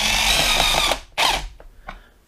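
A RIDGID hydraulic brushless impact driver in third speed drives a small screw, producing a loud, whirring buzz for about a second, then a second short burst and faint ticks as it winds down.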